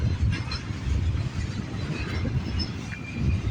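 A CN freight train rolls past nearby, a steady low rumble of wheels and cars with faint metallic squeals and clatter running continuously through the short stretch.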